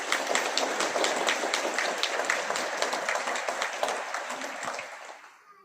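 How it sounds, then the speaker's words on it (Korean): A church congregation at a Korean Sunday service claps together in encouragement: dense, steady applause that holds loud, then thins and fades away toward the end. "힘내라고 박수 한번 쳐주세요."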